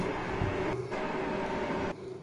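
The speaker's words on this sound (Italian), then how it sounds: "Treno che passa." A Frecciarossa high-speed train rushes past with a steady, loud, broad roar and a whine, fairly close, brief and continuous throughout with no voices.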